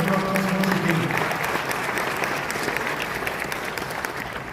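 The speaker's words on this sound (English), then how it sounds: "please give a round of applause once again" Applause from an audience at a youth conversation event, a broad wash of clapping that starts full and slowly tapers, with a faint sustained tone underneath early on.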